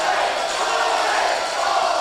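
A crowd at a Reality of Wrestling pro wrestling match cheers and roars, a dense, continuous wall of voices filling the arena at steady loudness.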